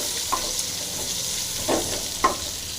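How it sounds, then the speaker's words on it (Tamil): Steady frying sizzle of chopped onions in a pan, with a few soft scraping stirs mixed in; no talking. "நறுக்கிய வெங்காயம் இதையும் போட்டு நல்லா ஃப்ரை பண்ணிங்க"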